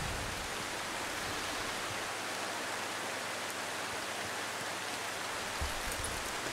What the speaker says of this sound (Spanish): Está lloviendo terriblemente en la ciudad.